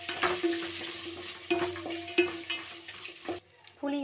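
Curry leaves and garlic sauté in a pan for a curry leaf chutney, with a soft sizzle and several sharp scrapes and taps of a spoon against the pan. A voice starts briefly near the end.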